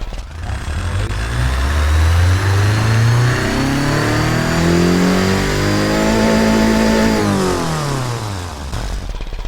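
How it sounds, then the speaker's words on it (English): Turbo four-cylinder car engine in the BeamNG.drive video game revving hard through a long pull, pitch climbing and falling with gear changes, loud and close, no talking. "Four-cylinder sounds."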